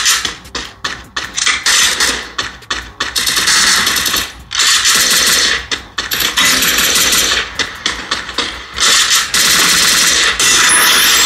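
Rapid automatic gunfire from the Free Fire mobile game on a Galaxy A35 5G phone, loud bursts of clattering shots with brief gaps, continuing almost nonstop.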